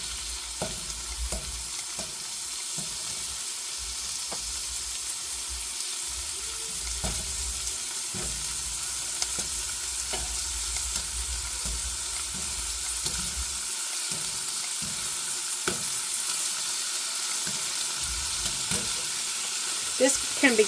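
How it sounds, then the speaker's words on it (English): Sausage pieces and onions brown in a pan, with a steady close sizzle broken by scattered pops and a few stirring scrapes. No voices. "browning a little bit with those onions."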